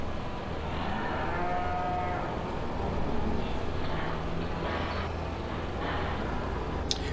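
Cattle in Farming Simulator 2015 moo repeatedly over a steady low farm-machinery drone, the calls fairly close and blending into a continuous background hum.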